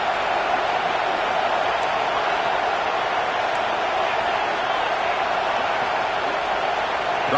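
A video game football stadium crowd roars steadily on a third down, a dense, continuous wash of cheering that holds at an even level throughout without any break.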